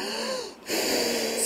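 A breathy, hissing voice blows a long whoosh imitating wind, dipping briefly before gusting again.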